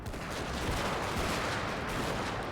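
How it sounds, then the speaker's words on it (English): Matchlock ashigaru musket volleys in Shogun 2 Total War, a dense continuous crackle of overlapping gunfire from a distance, with no single shot standing out. "Some Matchlock Ashigaru. They're just shooting into the backs of this cavalry."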